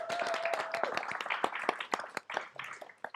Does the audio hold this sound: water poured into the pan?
no